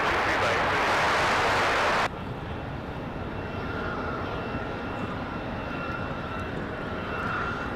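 A jet airliner on night arrival at Raleigh-Durham, landing on runway 23 right, roars loudly for a couple of seconds and then drops to a steadier, lower engine rumble that carries on to the end.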